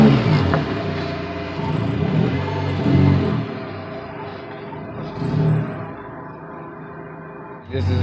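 A Honda Civic with a swapped-in H22 engine idles high, a steady low rumble that swells and eases in slow waves and sits close by.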